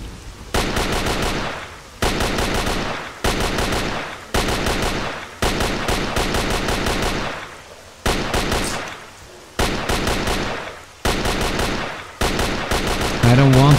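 Bursts of AK rifle fire in the video game Radiophobia 3, about ten rapid automatic volleys in quick succession, each a couple of seconds long with short pauses between.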